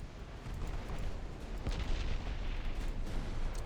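Warship main guns firing in the Ultimate Admiral Dreadnoughts naval battle game, a dense continuous rumble of distant booms and blasts blending together without a break.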